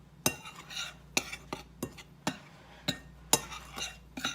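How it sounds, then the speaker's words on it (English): A utensil stirs and scrapes dry ingredients, flour and sugar, in a bowl for homemade Bisquick mix. Sharp knocks and clinks come at irregular intervals, about a dozen in four seconds, close and fairly loud. "now we're just going to mix the dry ingredients together"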